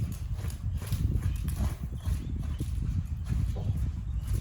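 A horse walks through desensitising training toward a tight, narrow space, its hooves thudding in a dull, steady clop over continuous low rumbling background noise.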